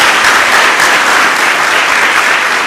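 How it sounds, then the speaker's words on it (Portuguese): A church congregation applauding during a sermon, a loud, dense and unbroken roar of many hands clapping at once, filling the space with no voices standing out. "Dê uma salva de palmas a Jesus."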